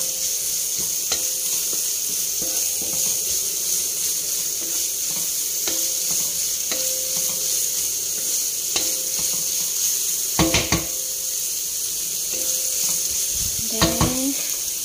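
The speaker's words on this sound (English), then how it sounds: "So we have for onion, garlic, and ginger. Fry muna natin siya." Onion, garlic and ginger sizzle steadily in hot oil in a pan, a constant frying hiss with occasional clinks and scrapes of a utensil stirring, close and without talk.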